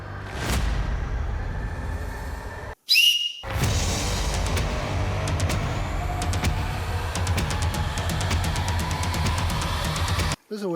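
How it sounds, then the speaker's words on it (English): A shrill emergency whistle from a survival kit blows, with repeated sharp blasts over a steady low rumble, loud and close. "There's a whistle, so you can summon help without using your voice."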